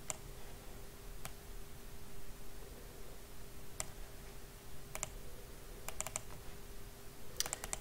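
Scattered keystrokes and clicks on a computer keyboard, sparse at first then quicker clusters of taps, close and fairly faint over a low steady hum, with no talk.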